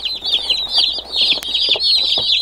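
A gray bantam chick with feathered feet peeps in quick, high chirps. The calls come in rapid bursts, close and fairly loud, over faint background noise on a small farm.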